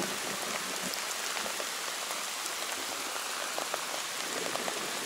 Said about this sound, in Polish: pada i pada, a my siedzimy i wędkujemy.